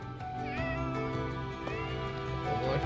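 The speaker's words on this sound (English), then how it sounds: "Oh, kitty." A cat meows twice with rising, drawn-out cries in the video game Fire Emblem Three Houses, heard over a sustained tonal music bed and faint background ambience.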